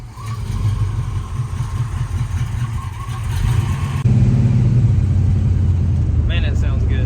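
A 1978 Chevrolet Nova engine with a freshly fitted exhaust runs steadily and close by, a deep low rumble that grows louder midway as it revs up. People talk over the engine.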